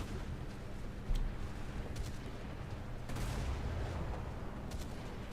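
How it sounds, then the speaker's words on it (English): A naval gun fires in War Thunder's naval battles, a 150mm or 120mm gun, with a few sharp, fairly faint reports and a deep rumble rolling underneath, no talking. "It just feels like you're firing a small caliber gun sometimes."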